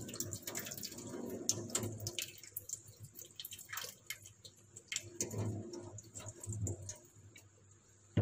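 Water drips and trickles faintly as it drains from a pot of sprouting bean sprouts, in soft irregular splashes over light background noise.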